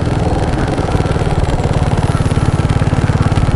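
A BMW F850GS motorcycle being ridden around a parking lot gives a loud, close, steady chugging engine pulse with a rapid, even beat throughout.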